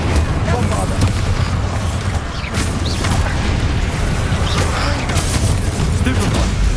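Bombarda blasting spell explosions in Hogwarts Legacy, booming bursts layered over constant loud combat noise, clashing spell effects and dense background rumble, with spoken spell incantations throughout.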